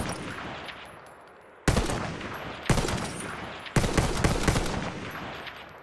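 Bursts of rifle gunfire from the 1895 in the video game Battlefield 1 arrive as three loud, sharp blasts, each followed by crackling rattle and echoing battle noise.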